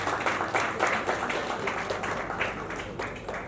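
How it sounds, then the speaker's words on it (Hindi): Loud, sustained audience applause at a production company launch event, a continuous dense wash of clapping at steady volume. "जोरदार तालियां"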